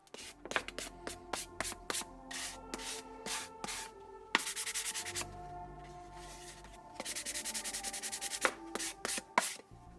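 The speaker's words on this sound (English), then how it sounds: "I go over and do one more layer of very light sanding" Light sanding on a stained wooden dice box, a series of short, close, scratchy back-and-forth strokes, followed by a longer stretch of steady rubbing, with no voices.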